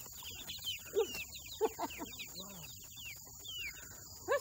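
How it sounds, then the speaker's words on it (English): A black and white hen clucks in short, agitated bursts outdoors, with several clucks close by over faint chirping insects and a steady high background whine. "this black and white chicken is pissed off"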